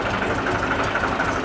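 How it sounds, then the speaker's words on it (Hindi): A tractor engine idles in Pakistan, a loud, steady, close rumble with an even mechanical throb that runs without pause and with no voices over it. "हम जाने लगे हैं ट्रैक्टर पे।"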